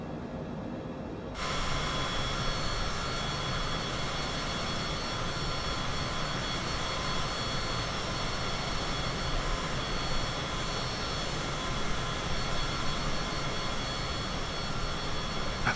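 A Cessna Citation CJ4 business jet climbs in Microsoft Flight Simulator with its jet engines giving a steady, loud cabin drone and whine. The sound jumps up after a moment and then holds an even roar.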